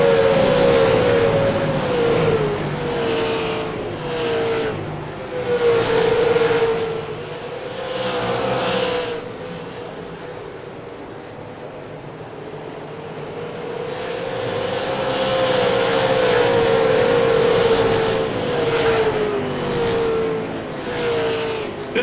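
Race cars of the ETI Southern Super Series, a Five Flags local series, roar around the track in a continuous engine drone, with several cars swelling loudly as they pass close and fading between passes.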